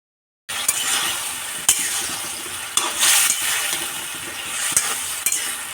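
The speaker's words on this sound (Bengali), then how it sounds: "এবার নেড়ে চেড়ে আমরা সবজিটাকে কিছুক্ষণ কষিয়ে নেব ঢাকনা দিয়ে।" Potato and eggplant pieces fry in a pan with a loud, continuous sizzle broken by occasional sharp utensil clinks as they are stirred. The sound starts abruptly after a short silence.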